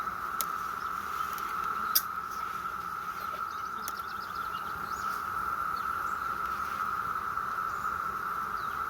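Seventeen-year periodical cicadas scream from the trees around a beehive, a steady, shrill, unbroken drone that holds loud for the whole stretch, with no voices over it.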